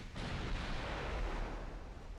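Warship guns firing and an ammunition flash fire exploding in the naval game Ultimate Admiral Dreadnoughts, a loud, sustained roaring boom that fills the whole clip with rumbling blast noise.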